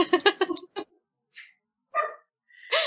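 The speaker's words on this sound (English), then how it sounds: "Dog's freaking out in the background." A dog barks and yips in short, separated bursts, sounding excited and somewhat distant against an otherwise quiet indoor background.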